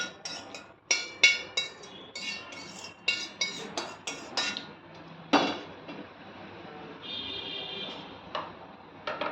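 Curry leaves frying in oil in a pan while making karivepaku karam, giving faint, scattered crackles and sharp pops in an irregular rhythm against a quiet background.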